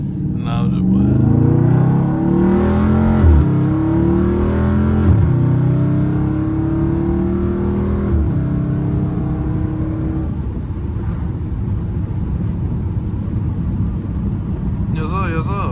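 A Dodge Scat Pack's engine drones steadily from inside the car while driving, with rising rev tones in the first half before settling into a constant road hum.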